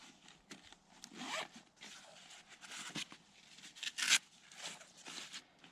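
The zipper on a gear pouch is pulled in several quick, close, quiet rasping strokes with short pauses between them, and no one speaks.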